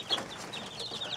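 Young native chicken pullets clucking softly, with a few short, faint peeping calls spread across a brief, quiet stretch.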